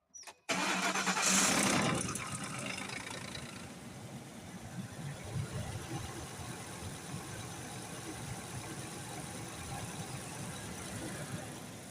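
A Lincoln 5.4 engine cranks and catches with a loud rising start, then settles into a steady, slightly rough idle that continues at moderate level.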